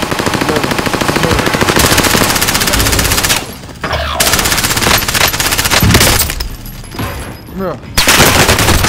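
Heavy automatic gunfire in a Warzone match, loud sustained bursts with brief gaps between them and a short spoken line amid the shooting.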